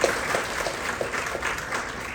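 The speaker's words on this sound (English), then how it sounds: "I think we should all clap for it and for the company and the people who work this" Audience applauding at the launch of India's first indigenous MRI scanner: steady, dense clapping from a room full of people, close and continuous for a couple of seconds with no talk.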